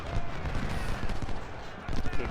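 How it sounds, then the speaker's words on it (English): Massed rifle volleys from troops in the Ultimate General: Civil War video game, a dense, continuous crackle of gunfire that stays fairly loud throughout and swells again near the end. "Eagleton will fire on DeBoss."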